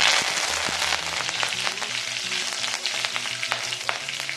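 Curry leaves hitting hot oil with black gram, cumin and chana dal for a chow chow fry, a loud dense sizzle and crackle close up, continuous throughout.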